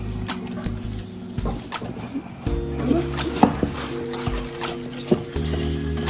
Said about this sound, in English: now we're going to mix it with the whisk